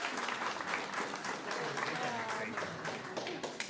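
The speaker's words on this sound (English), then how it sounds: "definitely a round of applause" Audience applause at a guide dog graduation ceremony, a steady wash of clapping from a crowd that holds for several seconds, with voices mixed in underneath.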